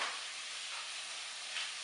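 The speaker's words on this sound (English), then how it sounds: "So I'm just stirring the onion and the celery." Onion and celery stirred and sizzling in a pot, a steady close frying hiss with soft scraping, no talk.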